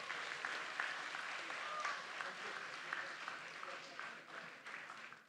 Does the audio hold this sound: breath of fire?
no